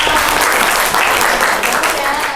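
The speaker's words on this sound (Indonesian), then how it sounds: "Tepuk tangan untuk Awa" A classroom of students applauds a classmate during a social studies lesson, with loud, continuous clapping across the whole stretch and a voice faintly mixed in.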